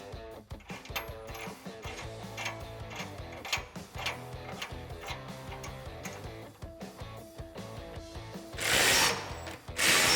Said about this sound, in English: tighten down with an 18 millimeter socket